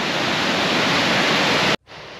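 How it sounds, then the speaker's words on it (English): Upper Yosemite Falls roars as a loud, continuous broadband rush of falling water heard from the top of the trail, cutting out abruptly near the end before a quieter rush resumes. "Oh, there's a falls."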